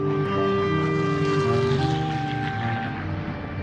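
A droning engine hum with layered steady tones, like a helicopter nearby, holding level and slowly easing off toward the end.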